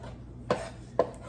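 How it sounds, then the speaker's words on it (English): Focaccia toppings chopped with a small handheld chopping tool, two sharp chopping knocks about half a second apart over a low steady background hum, close, no speech. "I just use this little tool that I was bragging about before, and you just kind of, and it just chops it up."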